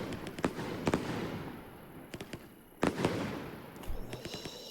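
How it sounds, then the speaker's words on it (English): White strobe breaks from firework cakes in the Fireworks Mania video game: dense crackling fizz with several sharp, loud bursts scattered through, heard alone. "The white strobe breaks. Especially doing a few at once."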